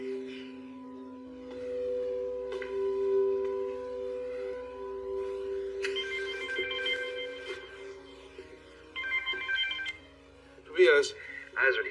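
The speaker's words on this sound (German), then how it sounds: "Ich kann sie nicht erreichen, die geht nicht. Ans Telefon." Telephone ringing unanswered in a German crime drama, a steady repeating electronic ring tone that carries on for several seconds while people talk over it.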